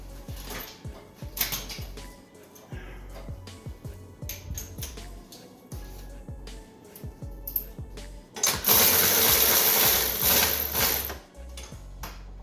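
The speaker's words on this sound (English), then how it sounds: "Ratchet." A ratchet being turned while building a front strut bar for a Nissan 300ZX Z32, sharp mechanical clicking in irregular bursts close by, followed by a louder, denser stretch of rapid ratcheting.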